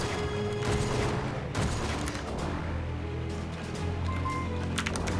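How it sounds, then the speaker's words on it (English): Bombs blast in the shoot-'em-up game Jamestown+, a dense continuous wash of explosions and gunfire rumbling loudly throughout with layered game effects. "I'm just gonna bomb."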